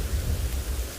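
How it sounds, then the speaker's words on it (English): Strong wind buffets the microphone on an outdoor morning safari drive in South Africa, a loud low rumbling roar that surges and swells continuously with no voices. "it's so windy that we can't hear properly"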